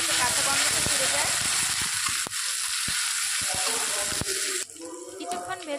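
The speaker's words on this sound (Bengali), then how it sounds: "আদা রসুন কাঁচা লঙ্কাটা দিয়েও কিন্তু বেশ খানিকক্ষণ ভেজে নিতে হবে, যাতে কাঁচা গন্ধটা চলে যায়।" Onion frying with ginger, garlic and green chilli paste gives a loud continuous sizzle with sharp spatula clicks against the pan, easing to a quieter hiss near the end, with a voice partly audible.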